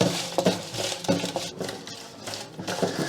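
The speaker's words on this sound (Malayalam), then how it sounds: "ഈ വിനാഗിരി പരലുപ്പിട്ട് നന്നായിട്ടൊന്ന് ഇളക്കി കൊടുക്കുക" Raw prawns being stirred with vinegar and rock salt in a bowl, giving repeated close clinking and scraping strokes in an uneven rhythm, with no talk.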